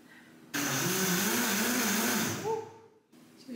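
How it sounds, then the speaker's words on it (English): A countertop blender whirs loudly while blending dry quinoa, a steady grinding motor whine for about two seconds that then winds down and stops, followed by a short restart. "When you blend the quinoa before cooking it, it takes the husk off."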